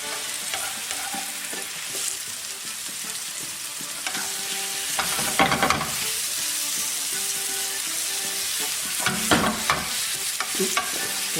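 Courgette and other vegetables fry over medium heat in a pan for creamy pasta, a continuous moderate sizzle with frequent scraping stirs and utensil knocks, louder bursts of stirring near the middle and end.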